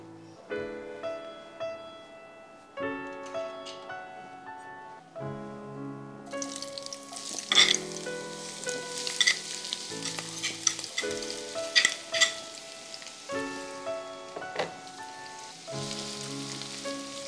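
Onions drop into hot oil for a Dastarkhwan cooking episode and crackle and sizzle steadily throughout. Soft musical tones play underneath, and the frying stays at moderate volume from nearby.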